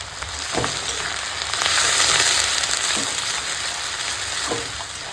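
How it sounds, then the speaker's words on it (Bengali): Continuous hissing sizzle of onions frying in hot oil, swelling in the middle, with a few soft knocks of stirring. "পেঁয়াজ দিয়ে ভালো করে পেঁয়াজটা ভেজে নেবো"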